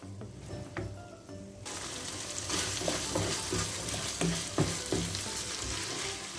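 Peas and carrots are stirred with minced meat in a pot, a steady sizzling, frying hiss with scraping spoon strokes that grows louder after a brief quieter start, with no talking.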